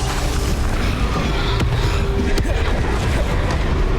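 Bombarda spell blasts in the Hogwarts Legacy video game, a dense rumbling boom with brief sharp cracks near 1.6 and 2.4 seconds, loud and continuous throughout.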